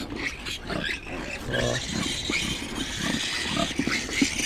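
A litter of piglets grunts and squeals repeatedly at close range, overlapping short calls scattered across the whole stretch, with a person talking briefly over them.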